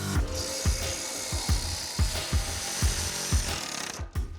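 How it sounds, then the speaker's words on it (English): A jigsaw cuts wood along a template for a pool deck build, a steady buzzing whine broken by regular rasping strokes about every half second, close and loud throughout. "Yeah, I had to use a jigsaw, and I never used one before."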